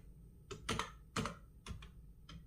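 Keys clatter on a computer keyboard in short bursts of typing, close and moderately quiet, with brief pauses between clusters of keystrokes and no talking.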